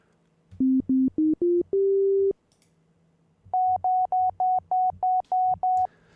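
An FM synth oscillator in Caustic 3 plays a fixed tone as clean, pure beeps: a quick rising run of short notes ending on a held tone, then after a pause a steady series of eight evenly spaced higher beeps.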